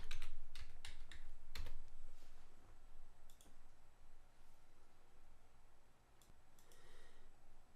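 Fast, uneven clicks of keys as a password is typed on a computer keyboard at a desk, several quick bursts and pauses over a low steady room hum, close and fairly quiet with no talk.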